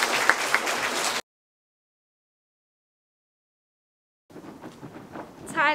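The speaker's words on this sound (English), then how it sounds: "Can we give those learners a round of applause," Audience at a Grade 1 school prize-giving ceremony applauds learners: a short burst of clapping breaks off into about three seconds of silence, then softer, thinner clapping returns and builds slightly at the end.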